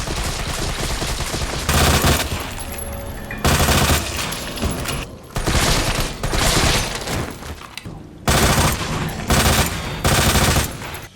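Assault rifle fire from Resident Evil 3 alternates with submachine gun fire from Resident Evil 2, several loud sustained automatic bursts separated by brief gaps, crisp and close with no talking.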